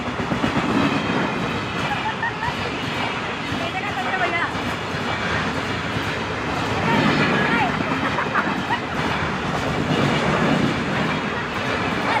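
A train rolls along the tracks near an underpass in Rajnandgaon at night, slowly gathering speed; a loud, continuous rumble with rhythmic clickety-clack of wheels over rail joints fills the whole stretch.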